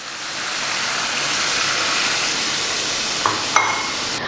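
Tamarind water is poured into sautéed chili powder in a pan for inji curry, giving a steady, loud hissing sizzle and rushing splash that holds throughout, with a couple of sharp clinks near the end.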